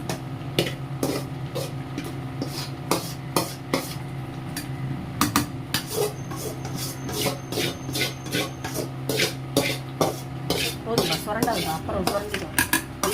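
Utensils scrape and clatter against steel pots and bowls as cooked potato masala for puri is moved into another bowl, a steady run of sharp metallic knocks and rubbing sounds close by, with no voices.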